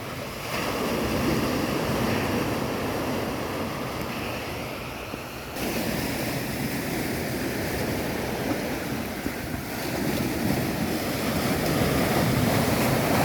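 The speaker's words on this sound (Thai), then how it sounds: "คลื่นทะเลยังแรงเหมือนเดิมนะครับ" Strong sea waves surge and wash onto the shore on a morning beach, a steady loud roar of surf with wind buffeting the microphone throughout.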